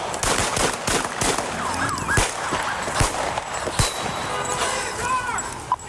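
Rapid gunshots crack out in an irregular volley during a police shootout, a busy, chaotic scene with a siren wailing and voices shouting.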